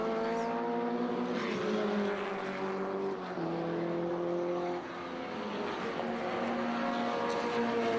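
Vintage race cars at WeatherTech Raceway Laguna Seca streaming through turn 1 into turn 2, a dense layered engine roar with overlapping whines and pitch shifts as several cars pass, loud and continuous.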